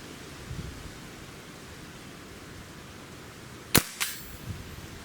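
A single sharp crack from a Beeman Raider entry-level PCP air rifle cuts through steady background hiss, followed by a fainter metallic knock a moment later.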